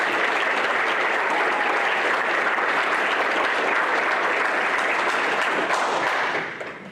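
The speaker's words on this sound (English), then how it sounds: "Give them another round of applause." Sustained applause from an audience at a county school board meeting, a dense, steady wash of many hands clapping at the same level for several seconds before tapering off at the end.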